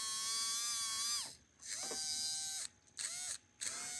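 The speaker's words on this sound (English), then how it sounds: "that's a really good running motor" A small Pittman-style motor in a Penn Line 2-10-0 model locomotive whirs with a high electric whine, revving up, cutting off and restarting in several short bursts at close range.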